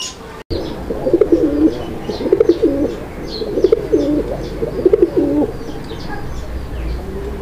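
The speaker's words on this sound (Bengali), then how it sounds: "এই জোড়াটা মাশাআল্লাহ অনেক সুন্দর ডাক আছে" A pair of fancy pigeons coos in repeated rolling phrases, close and clear, several bursts in a row over a quiet room with faint chirps behind.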